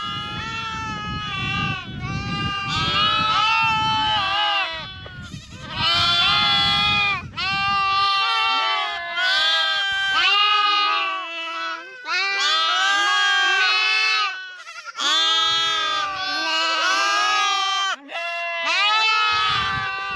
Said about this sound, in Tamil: உள்ள இருக்கிறது எல்லாமே ஆட்டுக்குட்டி.